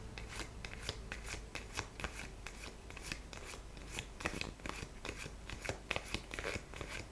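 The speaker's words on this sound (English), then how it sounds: "So I'll just give it a little bit of a shuffle." Close, rapid shuffling of a deck of Lenormand cards, a continuous stream of crisp papery flicks and riffles with brief soft pauses, no talk.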